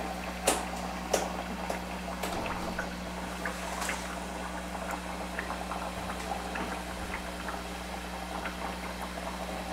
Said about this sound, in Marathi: बारीक गॅसवरच तळायचं आहे आपल्याला